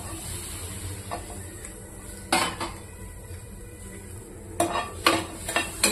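Green chillies dry-roasting in a pan with no oil for peanut chutney, with steady stirring and scraping, occasional sharp metallic clinks of the utensil against the pan, and a soft sizzle underneath.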